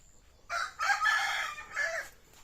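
A rooster crows once in a single drawn-out call near the microphone, loud and clear against a quiet background.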